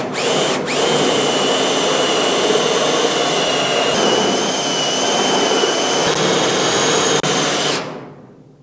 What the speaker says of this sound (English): My spot weld cutter has seen better days.